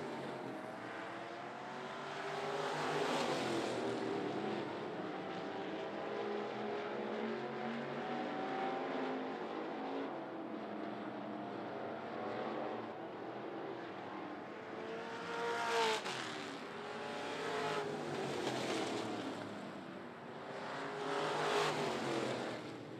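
Street stock race cars roar around the 411 Motor Speedway oval in a continuous loud engine drone, with rising and falling passes as the pack sweeps by, swelling near the 16, 19 and 22 second marks.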